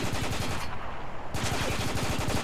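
Rapid bursts of automatic gunfire in the video game Spec Ops: The Line rattle loudly and continuously, with a brief drop in the high end midway before the dense shooting resumes.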